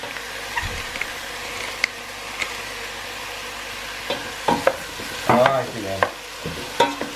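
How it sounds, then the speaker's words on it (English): A pot of tomato soup, seasoned with salt and pepper, is stirred with a utensil. Quiet background gives way to clustered scrapes and knocks against the pot in the last few seconds, with a brief spoken remark. "we shall continue to stir this for about 5 minutes until this part is cooked as well"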